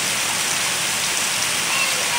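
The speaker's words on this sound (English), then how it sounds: "Raining on the grass, you can see raining." Steady rain hisses down continuously onto grass, a dense even wash of droplets falling close by with no pauses.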